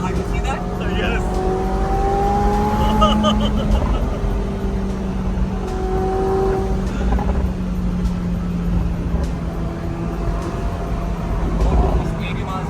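A McLaren 750S sports car from 2025 pulls along at around 80 mph, its engine droning steadily with rising and falling pitch as it accelerates, heard from inside the cabin with voices talking over it.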